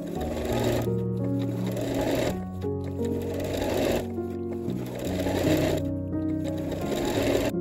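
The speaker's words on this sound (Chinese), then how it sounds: "然后把袖子下缘和侧缝线缝起来。" A sewing machine stitches a sleeve hem and side seam on a tie-neck top, running in close, loud whirring bursts with brief pauses between runs.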